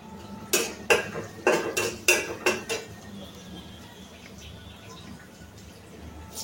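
Red amaranth greens are stirred in a pan, heard as about seven sharp metallic clinks and scrapes of a utensil against cookware in quick succession, then a quiet kitchen hush.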